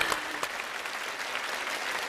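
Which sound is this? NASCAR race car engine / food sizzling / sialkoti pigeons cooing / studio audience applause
studio audience applause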